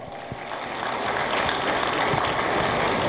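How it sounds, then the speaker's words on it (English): Audience applause at an annual senior summit, a dense steady clatter of many hands that swells slightly and holds loud and continuous, with no talking over it. "give them a round of applause"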